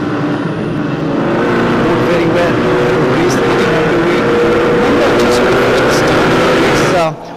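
Racing cars from the JK Tyre national championship roll around a wet, drizzly circuit behind the safety car, a loud continuous engine drone close by with a commentator speaking over it.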